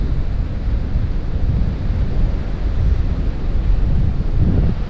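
Steady roar of surf and strong wind buffeting the microphone at Praia do Hermenegildo beach, a continuous loud wash without breaks.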